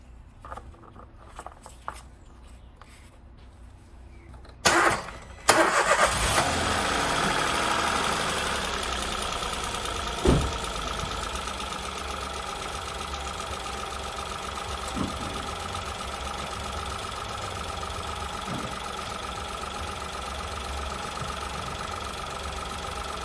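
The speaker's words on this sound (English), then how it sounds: "So, got the engine running, it's running nice and sweet" A 2017 Toyota Aygo engine cranks briefly, catches and settles into a steady, even idle that runs on for many seconds, preceded by some quiet handling noises.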